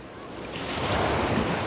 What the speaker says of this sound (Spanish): rompen las olitas acá en la orilla